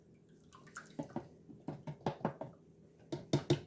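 Lye water tipped into soap-making oils, giving soft watery splashes and a few light knocks against the container in short uneven bursts, close and fairly quiet.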